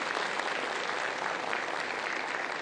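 A short stretch of steady, even applause from an audience at a plenary session, a continuous moderate wash of clapping with no break.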